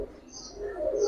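A pair of giribaz pigeons coos softly and close by, a brief low murmuring call swelling slightly toward the end over faint background noise.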